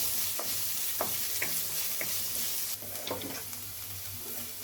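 Chopped onion frying in hot ghee in a pan for a paneer curry, a close, steady sizzle punctuated by regular spatula clicks and stirring, with no talking.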